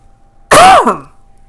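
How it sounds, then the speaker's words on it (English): A single sharp throat clear or cough bursts out close up, rough and loud, then trails off in a brief rasp. "here I come again with another coughing attack"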